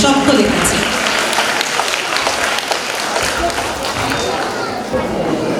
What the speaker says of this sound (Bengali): একটা জোরে হাততালি চেয়ে নেব সকলের কাছে।